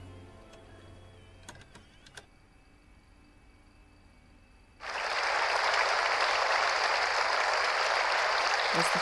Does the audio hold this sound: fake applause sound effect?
yes